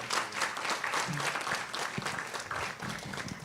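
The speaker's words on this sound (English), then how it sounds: "let's give a round of applause to Absa" An audience at a women's conference gives a round of applause: dense, sustained clapping from many hands filling the room, steady throughout with no speech over it.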